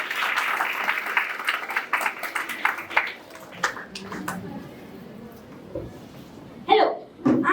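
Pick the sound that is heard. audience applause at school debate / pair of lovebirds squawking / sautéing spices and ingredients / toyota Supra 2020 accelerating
audience applause at school debate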